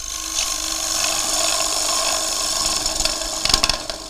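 A lathe gouge cuts an ambrosia maple bowl, giving a steady scraping whir of wood turning with a sharper burst of chatter near the end, close and loud with no talking.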